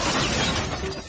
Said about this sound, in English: like a little crash boom bang sound.